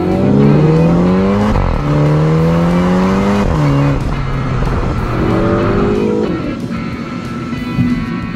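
A 2022 Mini John Cooper Works revs hard through quick gear shifts, its engine note climbing in pitch, dropping at each change, then climbing again, loud and close with no talking.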